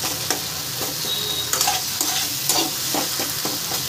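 Spice masala with tomato is sautéed in a pan, giving a steady sizzle broken by repeated scraping stirs of a spoon, close and clear with no talking.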